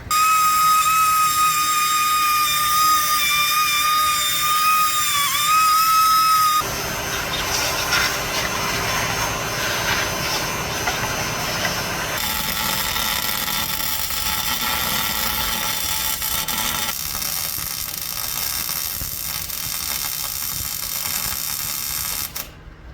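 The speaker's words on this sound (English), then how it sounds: "I'm gonna get in here with the die grinder and clean all this up out, all the carbon and rust and whatnot out of there" A die grinder scours carbon and rust off bare metal on a shortbed 4x4 Bullnose truck, starting with a steady high whine and then breaking into loud, harsh broadband grinding that runs continuously and close by, with no talking.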